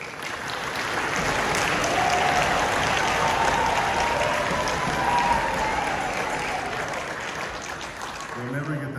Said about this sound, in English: We'll never get that much applause for playing that ever again